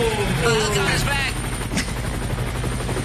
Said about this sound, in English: Helicopter's back.